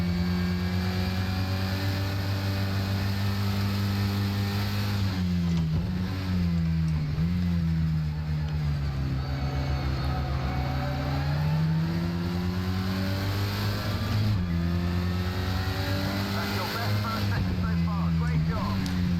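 The Porsche 924 GTP race car engine in the Project Cars video game drones steadily at mid revs, rising and falling through gear changes, under continuous narration.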